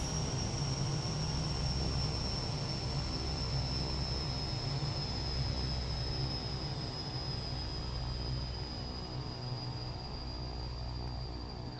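King Air C90B turboprop engines winding down in Flight Simulator X after the fuel is cut, a steady loud whine and low drone holding evenly throughout, with no speech.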